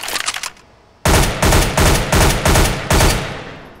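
Rifle shots at a practice target on a Counter-Strike: Global Offensive weapon course, five or six loud, sharp reports in a steady rhythm after a quieter opening, each ringing briefly into the next.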